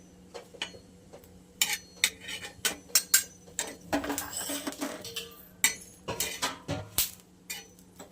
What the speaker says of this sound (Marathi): दाबून दाबून मिरच्या मस्त भाजून घ्यायच्या